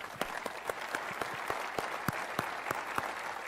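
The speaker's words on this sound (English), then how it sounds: "I want to give a big round of applause for General Eisner." Faint audience applause at an Internet of Things business conference after a speech, with sparse, distinct individual claps ringing out over a soft hall wash for a few seconds.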